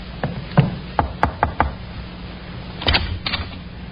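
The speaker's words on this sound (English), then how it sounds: "The sergeant knocked on the door of the second floor in front." Sharp knocks on a door in an old-time radio drama: a quick run of distinct raps, then a short pause and another cluster of knocks, close and crisp over a faint hiss.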